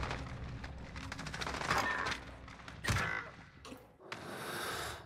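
Shotgun blasts in a video game, several loud bursts with sharp onsets near the middle of the clip amid continuous game noise and clatter, no speech.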